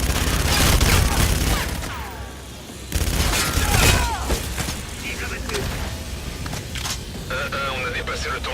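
Rapid bursts of gunfire and booming explosions in the video game Call of Duty: Infinite Warfare, loud and dense, with a short lull partway through. Voices speak over the battle.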